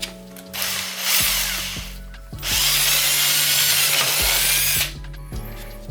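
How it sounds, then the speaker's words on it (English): A power drill whirs loudly in two long bursts, close by, with a brief pause between them and scraping, grinding sounds of the bit biting in, while working on a Subaru WRX exhaust. "I think I found the perfect drill bit for that."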